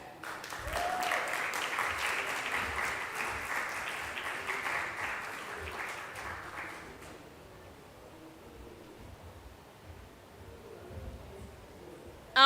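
Audience applause at a panel event on gender equality and climate-resilient energy, a steady, dense clapping that fills the room for about seven seconds and then fades, leaving quiet room tone.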